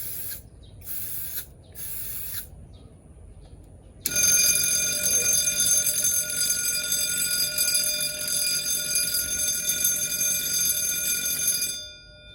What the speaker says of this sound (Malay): pengesan asap dalam kendalian UPS.